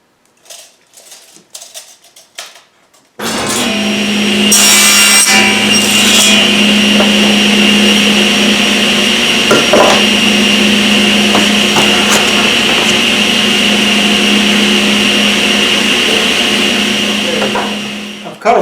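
A power saw cuts flooring planks in half: a loud, steady whine that runs about fifteen seconds without a break after a few quiet handling clicks.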